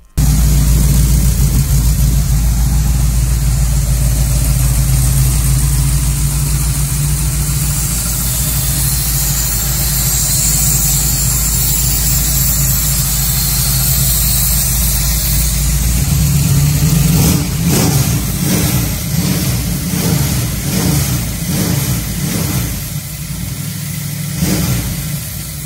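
A Ford 351 Windsor V8 swapped into a 1953 Ford F100 truck runs steadily at a loud, close idle for the whole stretch, with a slight change in tone and some rattling toward the end.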